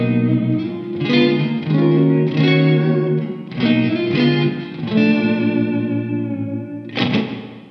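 Electric guitar through a Hammertone Fender Reverb pedal set to room or plate mode, playing sustained chords and phrases with a wide, shimmering reverb tail and a chorus-like sheen, loud and alone without voices.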